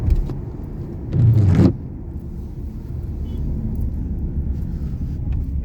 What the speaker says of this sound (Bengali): রাস্তায় অনেক জ্যাম